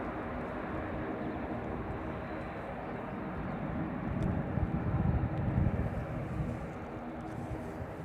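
A Jet2 airliner at Manchester Airport gives off a continuous broad engine roar that swells slightly midway and then holds steady, with faint talk in the background.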